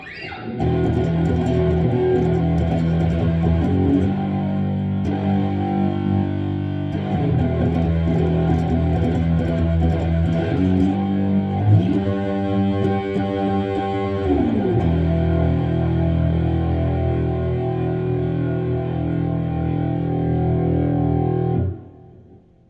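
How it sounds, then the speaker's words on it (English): Distorted electric guitar, a Les Paul with P90 or split-coil pickups, plays sustained chords and riffs for about twenty seconds, loud and thick, then stops abruptly. "This one doesn't sound nearly as good with distortion on it."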